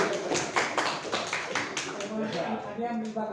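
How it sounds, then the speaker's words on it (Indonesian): A small group in a classroom claps in a loose burst of overlapping handclaps that thins out, while voices talk over and after it. "Tepuk tangan untuk saya dulu"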